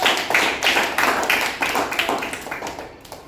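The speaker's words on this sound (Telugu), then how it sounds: "వెరీ గుడ్ క్లాప్స్ కొట్టండి" Children in a class clapping together, a brisk run of many hands in a rapid rhythmic patter that swells and then tapers off, heard up close with no talk.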